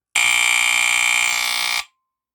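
A FireX FXC-1 smoke alarm, sounded by pressing its test button, lets out one loud, piercing, shrill blast lasting under two seconds, then cuts off into silence.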